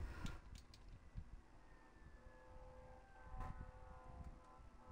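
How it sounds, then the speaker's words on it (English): Faint sirens wail in the distance, a thin rising and falling tone drifting over low, muffled background rumble and small knocks nearby. "today is the day for sirens. There's been so many sirens today."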